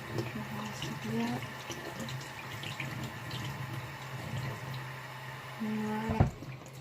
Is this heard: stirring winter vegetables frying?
no